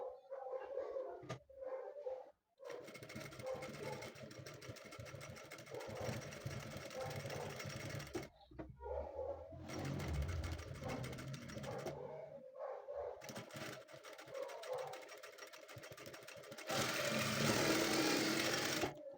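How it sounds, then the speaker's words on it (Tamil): A sewing machine stitches a blouse sleeve in loud, fast bursts of rapid stitching separated by short pauses, with the longest run near the end; no voices are heard. "இப்போ ஸ்ட்ரைட்டாக நம்ம ஸ்டிச் பண்ணதுக்கு மேலேயே ஒரு தையல் விடுறோம்."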